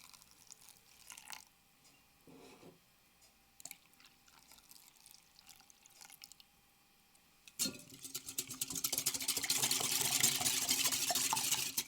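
Scattered quiet taps and clinks, then rapid, steady whisking of chocolate cake batter with oil in a bowl, close and growing louder.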